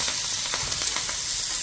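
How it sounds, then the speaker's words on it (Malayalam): Chilli chicken fries in a pan and is stirred, producing a loud, continuous close sizzle with a few soft stirring scrapes and no talking. "ഇനി ഇതൊന്ന് ഇളക്കി കൊടുക്കണ്ടേ"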